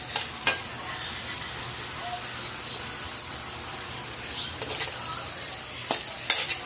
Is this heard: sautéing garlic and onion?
yes